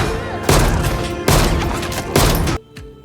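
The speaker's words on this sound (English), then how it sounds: "grabs a gun and begins firing wildly" Gunfire from a gun fired wildly in a gang shootout, heard as three loud, long booming bursts of shots in quick succession, then abruptly cut off.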